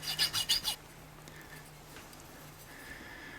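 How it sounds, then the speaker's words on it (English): A file works a silver-soldered pipe joint with about five quick, close rasping strokes at the start, then gives way to a quiet, steady background hum. "With all the filing to get it all nice and clean, it actually came loose"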